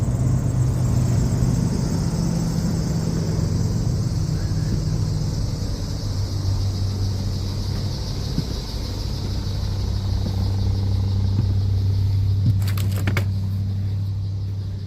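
A 1987 Winnebago motorhome engine runs steadily after a cold start, a loud continuous low rumble with a slight dip and rise in pitch, briefly joined near the end by a faint rattle.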